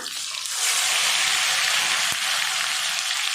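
Ground shallot paste hits hot oil already crackling with mustard seeds and fenugreek for a Tamil kola fish curry, setting off a loud, steady hiss and sizzle that swells after the first moment and holds.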